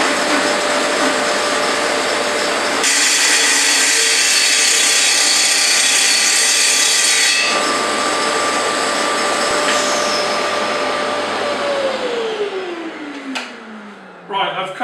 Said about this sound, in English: the first time I've used the CMS unit with the TS55R to cut perspex